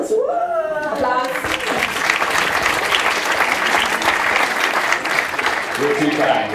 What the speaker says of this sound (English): What? Applause!